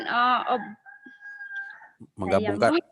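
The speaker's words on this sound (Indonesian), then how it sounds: "rupanya sama Hayatul tuh ayam ya" A chicken in a rural setting gives a drawn-out crow with a short cluck, sounding thin and moderately close, between stretches of a person talking before and after.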